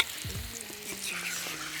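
Steady sizzling of spices frying in hot oil in a pan for a coconut and turmeric curry, with faint stirring scrapes, no talking.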